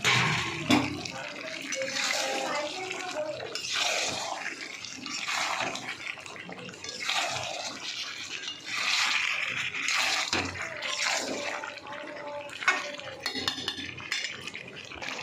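Potatoes go into a cooking pan with meat, bringing clattering pot and utensil sounds, wet stirring and sloshing, in close bursts, with someone speaking intermittently between them.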